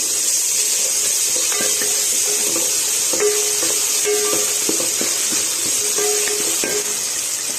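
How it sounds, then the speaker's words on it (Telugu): Ginger garlic paste sizzles steadily in a hot pan for bagara rice, with repeated scraping and stirring knocks from a spoon throughout; no one talks. "కొంచెం వేగిన తర్వాత అల్లం వెల్లుల్లి పేస్ట్ వేసుకోవాలండి మిక్స్ చేసుకోవాలి"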